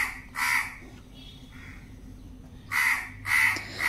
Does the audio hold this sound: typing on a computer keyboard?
no